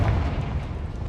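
Confringo spell blast in Hogwarts Legacy, a short heavy booming explosion with a deep low rumble that tails off quickly.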